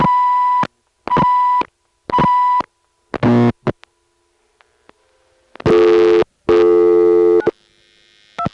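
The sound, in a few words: loud buzz on a telephone line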